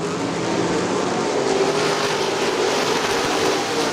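Late model race cars roar past on Crystal Motor Speedway, a loud continuous engine drone that swells slightly as the pack goes by, with no talk.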